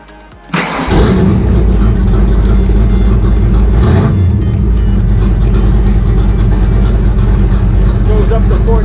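Factory Five Racing Shelby Cobra replica V8 cranks and fires within a second, then settles into a loud, close, rumbling idle that stays steady with a slight blip partway through.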